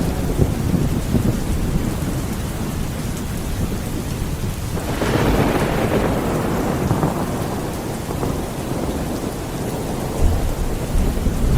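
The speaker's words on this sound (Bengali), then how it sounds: "মুষলধারে বৃষ্টি হচ্ছে" Heavy rain pours down in a dense, loud hiss, and a rolling crack of thunder breaks through midway and fades slowly in a night storm in a Bengali horror cartoon.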